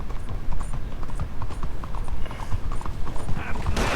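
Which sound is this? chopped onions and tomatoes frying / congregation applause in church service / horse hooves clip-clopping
horse hooves clip-clopping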